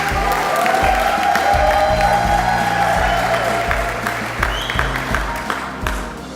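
Audience applause fills a graduation ceremony hall, a dense steady wash of many hands clapping throughout, with a faint low hum and some crowd noise underneath.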